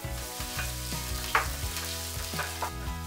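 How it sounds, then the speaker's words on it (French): Finely diced garlic and ginger sizzle steadily in a spoonful of hot oil in a pan, a continuous close frying crackle with a few stirring scrapes. "faire revenir l'ail et le gingembre en brunoise pendant une dizaine de secondes"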